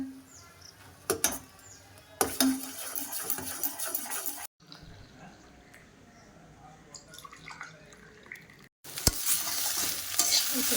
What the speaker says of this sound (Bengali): এই যে কফি বানাচ্ছি